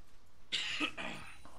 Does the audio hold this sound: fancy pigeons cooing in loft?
no